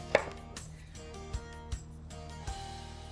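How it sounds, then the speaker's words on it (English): A knife cutting eggplant into big chunks on a board, a few distinct chopping thuds spaced unevenly over a quiet kitchen background with faint music. "I'm going to cut the eggplant into big chunks"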